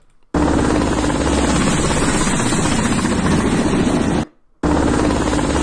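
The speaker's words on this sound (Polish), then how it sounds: "To jest ten Kamov 25. To jest tak naprawdę helikopter e, floty" A Kamov Ka-25 naval helicopter roars loudly and steadily with a dense rotor thrum, cut off briefly by a short gap before it returns, and no talk over it.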